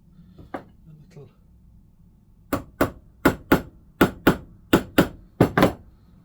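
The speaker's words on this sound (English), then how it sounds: "Let me go and get a little toughy hammer." A small hammer strikes a diesel heater part in a workshop, landing about nine sharp, loud metallic blows in a steady rhythm after a few quieter knocks.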